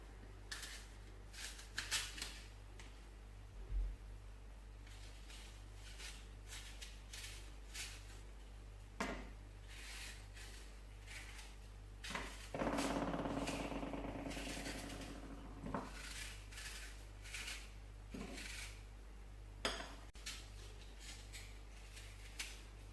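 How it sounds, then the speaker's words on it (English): An apple being peeled with a knife, producing quiet intermittent scraping and short cutting strokes, with one longer rasping stretch partway through, close and soft against a low steady hum. "So I will start by peeling off the apple."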